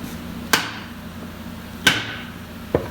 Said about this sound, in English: Use the rubber hammer so not damage the tool.